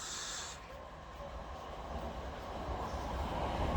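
A Class 375 Electrostar electric train passes along platform 1 at a suburban station, a faint steady rushing rumble with a short hiss at the start, building slightly louder toward the end.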